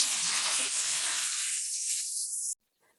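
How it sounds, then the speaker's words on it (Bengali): Shrimp dropped into hot oil in a pan for a green bean and potato vegetable curry, giving a loud, steady sizzle that fades and cuts off abruptly near the end. "তারপরে আমি এখানে চিংড়ি মাছগুলো দিয়ে দিলাম। এবার কিছুক্ষণ আমি ভেজে নিব।"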